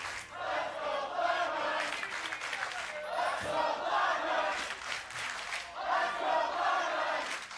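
A large arena crowd at a League of Legends esports match chants FlyQuest and Cloud9 team names in rhythmic waves, loud and echoing, the chant swelling and repeating several times.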